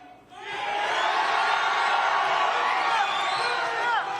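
A Texas crowd at a boxing press conference breaks into loud, sustained cheering and whooping that swells quickly and holds at full volume to the end.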